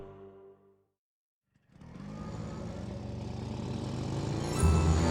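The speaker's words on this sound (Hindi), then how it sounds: "जगत के मोटरसाइकिल की आवाज़ आती है" A motorcycle engine approaches in a dramatized horror audio drama. A brief tonal sound fades out, then after a short silence the engine starts up as a low rumble and grows steadily louder toward the end.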